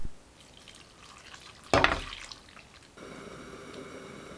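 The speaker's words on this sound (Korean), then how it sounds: "남은 김치를 위에 덮고 쌀뜨물 250ml를 부어줍니다." Rice-washing water, about 250 ml, is poured over kimchi in a pan, a brief splashing gush of under a second rising over a quiet background, then fading to a faint hum.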